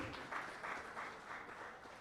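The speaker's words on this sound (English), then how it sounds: "Let's have a huge round of applause for him." Faint, distant applause rises from a crowd at a golf tournament ceremony, a soft wash of clapping that swells in a few gentle surges over two seconds.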